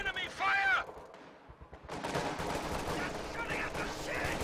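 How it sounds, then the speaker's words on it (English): Rifle fire from infantry in heavy cover in Company of Heroes 2, a 2v2 match, with game explosions and gunfire rolling steadily through the clip, interrupted by a brief lull partway through. "Rifleman firing from this heavy cover position"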